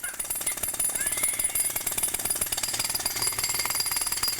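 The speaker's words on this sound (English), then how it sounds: "a baby's cry is just as hard to ignore as this pneumatic drill" A pneumatic drill hammers in a rapid, steady rattling burst, continuous and fairly loud throughout, with no voices.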